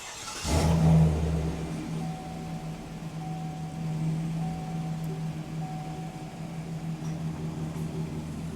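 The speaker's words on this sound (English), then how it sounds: "We're going to crank up the truck, let it idle for 5 minutes" A Chevy Silverado pickup with the 5.3 engine cranks briefly and catches with a loud burst, then settles into a steady, low, even idle that carries on alone at moderate loudness.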